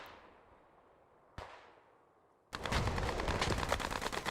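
Machine gun fire in the Post Scriptum World War II shooter during a competitive team match: after a decaying echo and a single sharp shot, a loud, sustained rapid burst of automatic fire rattles on close by.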